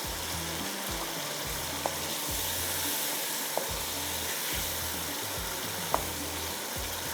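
Eggplant cooks down in masala in a pan for kababs: a soft, fairly quiet sizzle under repeated low scraping strokes of stirring, with a few tiny clicks.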